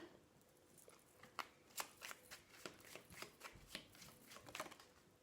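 Oracle cards handled and laid out on a table, giving a series of quiet, crisp card snaps and slides in irregular rhythm, close and fairly faint, with no voices.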